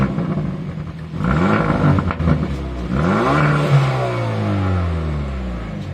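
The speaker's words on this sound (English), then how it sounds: "I'm just going to show you the exhaust note on this" Stock 2018 Hyundai i30 N with the 2.0 engine, 272 bhp, blipping its exhaust in a string of sharp revs that rise and fall, loud and close with no talking over it.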